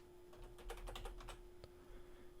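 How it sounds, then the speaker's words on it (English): Typing on a computer keyboard while entering a font name into a search field, a quick burst of close, crisp key clicks followed by a single louder keystroke over a faint steady hum. "I'll just start typing Roboto in the search here"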